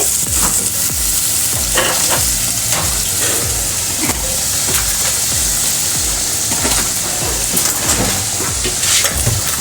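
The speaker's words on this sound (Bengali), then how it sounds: "এই পেস্টটা থেকে অয়েল না বেরোচ্ছে ততক্ষণ ভালো করে এটাকে মিক্স করতে হবে পেঁয়াজটার সাথে" Spice paste and onions sizzle in hot oil while a spoon scrapes and stirs the pan in repeated strokes, a loud, close, busy crackle that carries on throughout.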